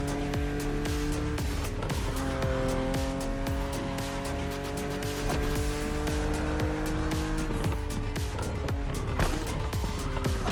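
BMW Z roadster racing in The Crew Motorfest video game, a loud, steady engine drone with shifting pitch and repeated tire squeals throughout, with no talking.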